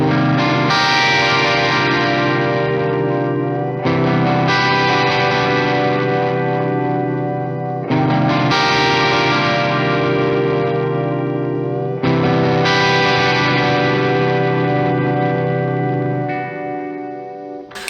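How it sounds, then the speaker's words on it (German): Electric guitar run through an old Digitech Whammy pitch-shift pedal, likely the second model, playing a loud, effect-heavy repeating phrase in four roughly four-second cycles with warbling, wobbling pitch and chorus-like thickening, no talking. "früher bei ganz vielen Songs ist das Whammy von Digitech"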